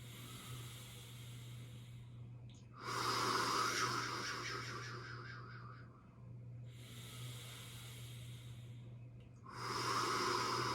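Slow, deep breathing during a yin yoga class: two long, airy inhale-exhale cycles, close and soft, each breath rising then fading over several seconds, over a low steady hum.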